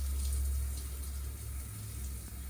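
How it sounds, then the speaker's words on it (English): Tap water runs steadily into a reusable plastic foaming hand soap container, filling it on top of liquid Castile soap, a continuous close hiss and rush with no talking. "you're just going to be filling the rest up with water"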